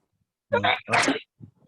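A single sneeze in a classroom, a sharp two-part burst that sounds close and loud, followed by brief faint sounds afterward.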